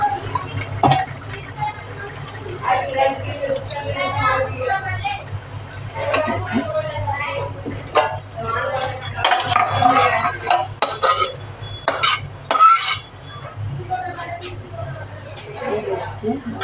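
Cooking pot of Bengali bottle gourd greens lifted off a home stove, with close clinks and scrapes of metal cookware and utensils over steady background hum, while someone talks throughout.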